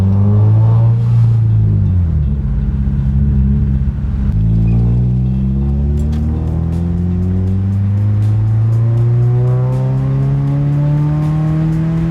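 A 2007 Subaru Forester with an STI block, no turbo, and a newly fabricated exhaust revs up and down nearby, a deep throaty exhaust rumble climbing in pitch steadily, loud throughout with no talking.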